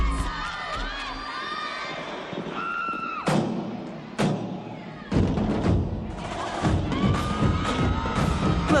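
Arena crowd at a 2006 NCAA women's college gymnastics meet cheers and whoops loudly during a floor routine, with surging waves of shouting, a few thuds of tumbling landings, and sustained applause swelling toward the end.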